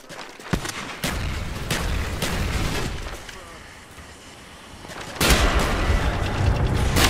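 Thrown explosives go off amid combat in Call of Duty: Black Ops, with loud booms and bursts of gunfire, a calmer stretch midway, then a sudden heavy blast and sustained rumbling fire.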